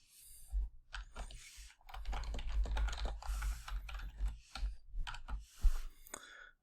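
Fingers type a password on a computer keyboard in quick irregular runs of clicking keystrokes, close and fairly quiet, with short pauses and no talking.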